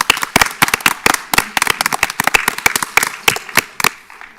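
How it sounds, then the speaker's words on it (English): Applause at a school board meeting, heard as loud, sparse individual claps from a small group, sharp and uneven in rhythm, close by and alone. "let's give them another round of applause"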